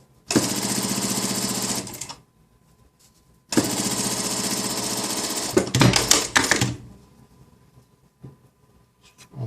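An industrial sewing machine stitches a skirt side pocket in two loud, rapid bursts of about two and three seconds, separated by a pause and followed by brief clicks and handling of fabric.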